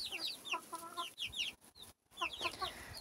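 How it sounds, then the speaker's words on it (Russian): Backyard hens cluck and chatter in quick, overlapping bursts, with a few higher calls mixed in and a brief pause near the middle; fairly soft and close, with no talking. "Вот они, курочки, ходят здесь."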